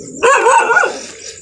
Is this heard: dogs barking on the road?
yes